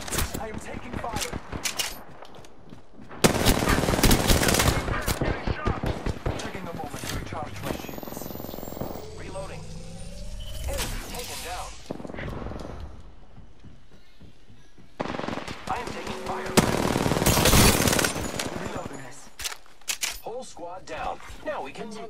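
Apex Legends gunfire comes in rapid automatic bursts and single shots, loud and close, in several separate volleys with quieter gaps between them, mixed with game voice lines.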